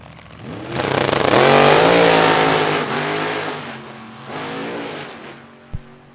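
A 1948 Fiat Topolino drag racing car at a vintage drag race, engine roaring loud and close as the tires spin and shake, revs rising and falling over several seconds before a sharp bang near the end.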